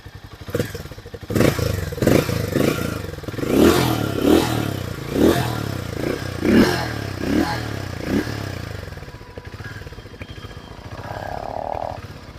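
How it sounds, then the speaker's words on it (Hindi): A Harley-Davidson X440 motorcycle runs close by, its exhaust giving a low rhythmic thumping with repeated swells and pulses, then settling into a quieter steady rumble. "तो भाई कुछ ऐसा सा इसका एग्जॉस्ट नोट है, एक बार सुन लो आप अच्छे से।"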